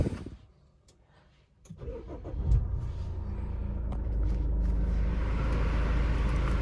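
A Chevrolet Cruze, just fitted with a replacement power steering rack, cranks briefly and starts, then settles into a steady, close engine idle rumble that holds to the end.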